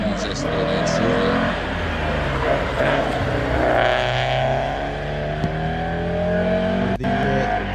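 A burgundy Hyundai Excel race car runs a hillclimb course, its engine droning steadily and loud throughout with shifting pitch, while a commentator talks over it.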